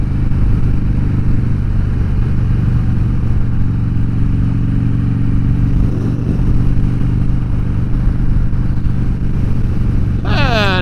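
A 2014 Harley-Davidson Dyna Fat Bob is heard on a ride. Its engine gives a loud, steady low drone with wind rush throughout, and a brief sharper rise in pitch comes near the end.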